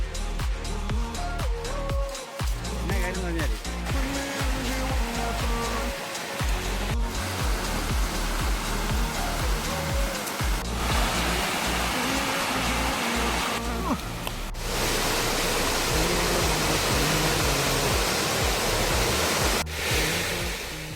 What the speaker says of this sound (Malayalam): താഴെ കൂടെ ഈ അരുവി ഒഴുകുന്ന ഒച്ച നമുക്ക് നല്ല